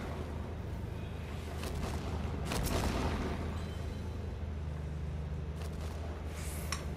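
Cannon fire during a Final Fantasy XIV battle on The Steps of Faith: dense booming blasts over a constant roar of combat noise, with a heavier burst in the middle and sharper cracks later.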